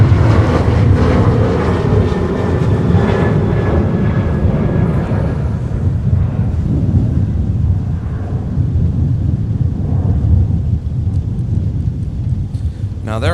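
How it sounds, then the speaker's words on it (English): A Boeing 737-900 jet airliner departing MSP airport in winter, a loud continuous broadband engine roar that fades slowly, with a person talking over it. "That's a 737-900, flight 2565 to Palm Springs"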